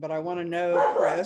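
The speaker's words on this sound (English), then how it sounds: "sorry about the dog" A dog barks nearby during a recorded discussion session, its short yips mixed in with someone speaking over them.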